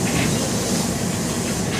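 Retro train near Tokyo running on its track, a steady close rumble with hissing and faint rhythmic clatter filling the whole stretch without any talk.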